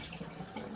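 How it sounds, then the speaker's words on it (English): Running water from a bathroom sink tap splashes over a synthetic shaving brush as it is wetted, a short, soft, continuous trickle and splatter heard close by. "I'm just going to wet my brush in the sink"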